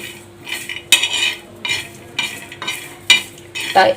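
Garlic cloves being heated on a tawa and stirred, a series of close scraping strokes of a utensil against the pan in an irregular rhythm over a faint background, no talk.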